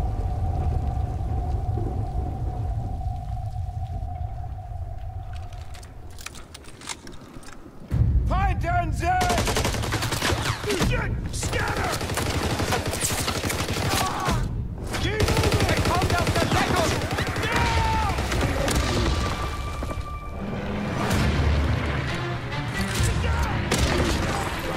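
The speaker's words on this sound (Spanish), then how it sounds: "Guerra y tiros." Gunfire and explosions from an Activision video game trailer, a dense stretch of rapid shots and booms running continuously, with a quieter hum in the opening seconds before the action kicks in.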